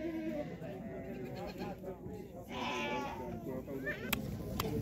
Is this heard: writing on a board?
no